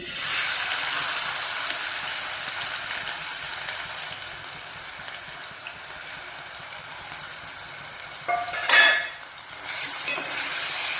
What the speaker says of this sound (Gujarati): આપણું તેલ ગરમ થાય એટલે એની અંદર કાંદો ઉમેરી દઈએ.